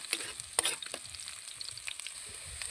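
Aromatics frying in a pan for a Filipino igado dish, with a steady sizzle and scattered clinks and scrapes of a utensil stirring, fairly close and alone.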